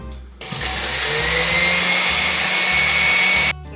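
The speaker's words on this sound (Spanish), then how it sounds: "Todo esto lo voy a licuar." Electric blender puréeing ingredients for a homemade pollo a la brasa chicken marinade: a loud motor whir starting abruptly, holding steady for about three seconds, then cutting off.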